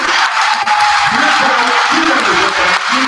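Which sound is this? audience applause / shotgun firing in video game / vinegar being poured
audience applause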